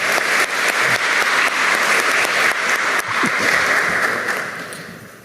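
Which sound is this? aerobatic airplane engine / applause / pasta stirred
applause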